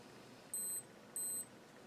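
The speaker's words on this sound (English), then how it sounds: "Okay, that's so it beeped twice." Two short high-pitched electronic beeps from a Tag Heuer Aquaracer dive watch alarm, evenly spaced, clear and close against a quiet background.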